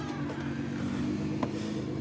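A car engine idles and rumbles steadily outside, moderately distant and fairly quiet, with a brief knock partway through and no talk.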